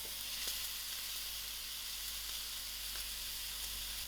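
Drained and cleaned middle-cut tinned fish fries in a pan with a steady, soft, even sizzle and a couple of faint ticks, with no talking.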